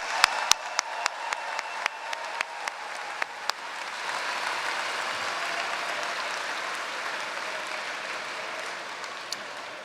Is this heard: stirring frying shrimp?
no